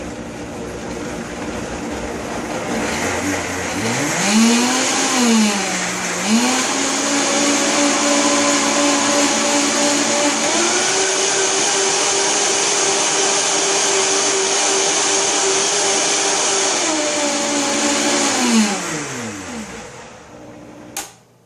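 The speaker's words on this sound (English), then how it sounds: "I'm like Tim the Toolman with my blender." A blender roars loudly and steadily for about fifteen seconds, its motor pitch climbing and dipping with speed changes before spinning down to silence.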